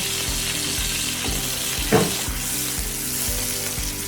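Finely chopped onions frying in oil for homemade anda kabab, a steady close hiss of sizzling under a regular low thumping pulse, with one brief louder burst midway.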